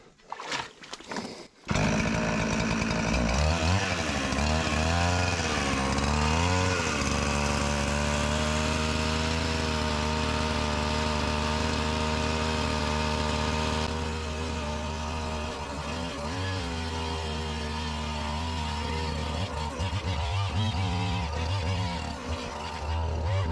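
A chainsaw-powered Lewis winch pulling weeds off a pond roars into life after a brief start-up and then drones loudly and continuously, its engine pitch wavering slightly under load, with no voices.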